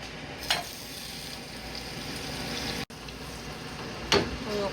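Food sizzles steadily in a pan as it is stirred, with a couple of brief scraping stirs standing out over the constant frying hiss, close up and without speech.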